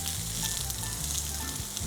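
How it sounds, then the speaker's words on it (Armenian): Peppers fry in a hot pan, giving a loud, steady sizzle with crackling spatter and occasional stirring, close up and continuous without any talk. "պղպեղները կտապակենք։"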